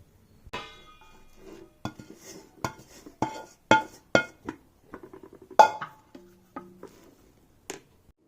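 Sticky sesame chikki mixture being spooned from the pan onto a plate, with sharp metallic clanks, knocks and clinks coming in uneven bursts up close, no talk.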